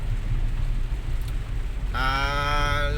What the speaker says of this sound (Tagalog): malakas makapaubo nitong ulan-ulan na ito mga ka-drivers